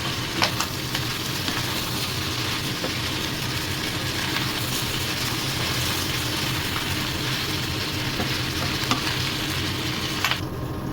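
Pork mask frying in oil, a dense, continuous close sizzle with steady crackling and faint stirring, no speech.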